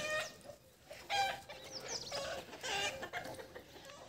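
Desi chickens cluck and chatter at a free-range poultry farm raising Aseel fowl in an open area. Several birds call in overlapping, uneven bursts at moderate distance, fairly soft, with no talking.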